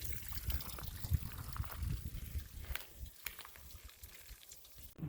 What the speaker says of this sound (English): The little creek at Strawberry Cienega is flowing gently.